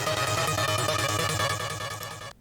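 An evolving synth sequence built in the Vital synthesizer, with a dense, continuously shifting tone whose layered harmonics pulse and morph under steady modulation, loud and sustained before cutting off abruptly near the end.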